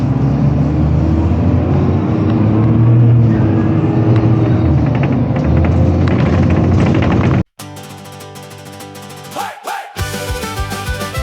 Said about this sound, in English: The gearbox is lazy, she's shifting too soon. In a low revving mumble, a miserable tune.